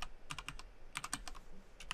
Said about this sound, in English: my typing's bad. I keep hitting the wrong key.